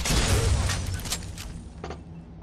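Explosive fire bolts bursting in Skyrim Dawnguard inside a small room, a loud crackling blast fading into scattered popping and sizzling bursts like fireworks, with no talk.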